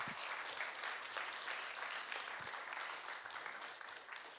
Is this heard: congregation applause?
yes